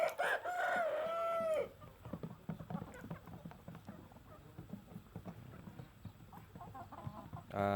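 A rooster at a small chicken farm raising Saigon-type birds lets out one loud, drawn-out crow, then quieter scattered clucks, scratches and farmyard knocks follow over several seconds.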